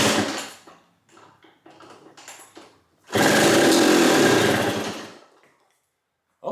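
A worn KTM two-stroke dirt bike engine sputters through several short, uneven firing bursts, then catches and revs loudly for about two seconds before dying away to silence, close up with no talking.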